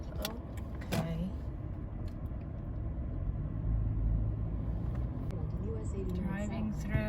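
Car driving slowly through the Roosevelt Arch at Yellowstone, a low steady engine and road rumble inside the cabin, with someone talking over it and a few small rattles.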